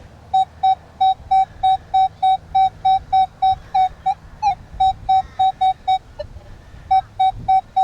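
A Minelab Manticore metal detector on a rocky beach gives a repeated target tone, a clean pulsing beep in an even rhythm of about two per second, briefly broken and then resuming, over faint handling and wind noise.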